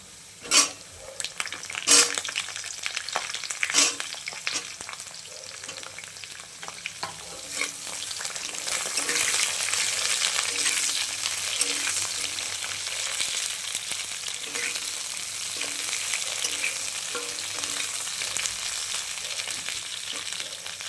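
Brinjal pieces are tossed into fried potatoes in a pan, setting off loud crackling sizzles and sharp stirring clatters at first, then a steady, close frying hiss that carries on with scattered scrapes.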